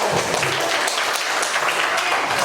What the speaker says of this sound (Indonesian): Ya, beri aplaus dulu.